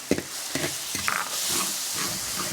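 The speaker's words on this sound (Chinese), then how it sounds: "锅里倒油，先倒一半的蒜儿，小米辣" Minced garlic and small chili peppers hit hot oil in a wok, a sharp close sizzle broken by a few clattering stirs and spatula knocks.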